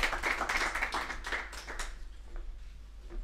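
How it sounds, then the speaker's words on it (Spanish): Audience applause for a presenter at a Madrid DevOps meetup, a burst of hand clapping that is fairly strong at first, then thins out and fades to a few scattered claps. "un aplauso para Álvaro"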